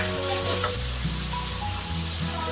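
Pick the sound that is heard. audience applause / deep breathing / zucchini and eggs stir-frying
zucchini and eggs stir-frying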